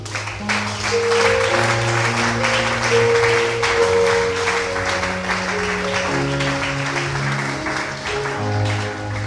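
A church congregation applauding and acclaiming the Lord, sustained rhythmic clapping from many people mixed with cheering voices, over a loud accompanying keyboard or organ playing chords.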